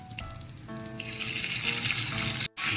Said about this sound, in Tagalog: Igisa tayo ng asuhos.